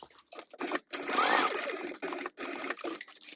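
A sewing machine top stitches through fabric in short close bursts of rapid mechanical whirring, stopping and restarting several times, with no talk over it.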